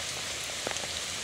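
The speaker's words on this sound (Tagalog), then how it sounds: "Lakas ng ulan pre. Kusog yung ulan." Heavy rain pours down outdoors, a loud, dense, steady hiss of drops hitting surfaces close by, with a few slightly sharper splashes in the middle.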